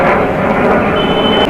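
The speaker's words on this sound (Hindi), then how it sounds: "Back to back fighter jet जा रहे हैं।" Fighter jets pass back to back during a military practice flight near Amritsar, a loud, steady, broadband roar that holds throughout with a faint high whine near the end.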